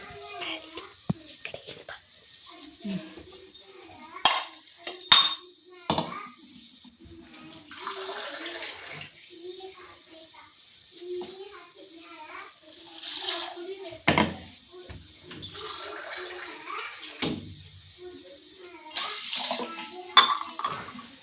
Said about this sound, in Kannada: ಅಕ್ಕಿಗಳನ್ನ ಚೆನ್ನಾಗೆ ನಾನು ತೊಳ್ಕೊಂಬರ್ತೀನಿ